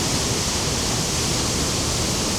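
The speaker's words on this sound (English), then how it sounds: "The best waterfall that I've seen by a mile." Seljalandsfoss waterfall in Iceland in winter: a steady, dense roar of falling water, loud and close, with no voices.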